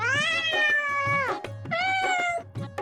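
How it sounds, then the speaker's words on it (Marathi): A cartoon cat's sung meows in a children's rhyme, two long melodic meow phrases over a steady bouncy backing beat, bright and close. "एक होती मनी मांजर"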